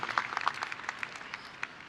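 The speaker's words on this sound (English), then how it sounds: "Give another round of applause to Principal McAdoo and the service he has provided Classen over the years." Scattered applause from a graduation audience honoring a school principal, a thin patter of claps heard faintly at a distance, briefly swelling then trailing off.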